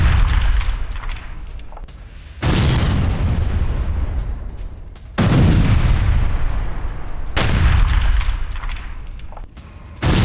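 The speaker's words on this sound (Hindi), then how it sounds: "हिजबुल्ला के ठिकानों पर बमबारी की गई, ये देखिए जरा।" Heavy bombardment explosions strike Hezbollah positions in southern Lebanon, coming as loud, deep booms every two to three seconds, each rolling into a long rumbling tail with no voices over them.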